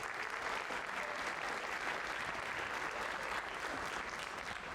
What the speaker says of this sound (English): Yes, please applaud her.